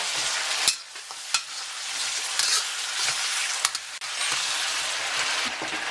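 Beef for pepper steak stir-fries in a hot pan, a dense continuous sizzle broken by sharp scraping and clicking stirs from a utensil every second or so, close and loud.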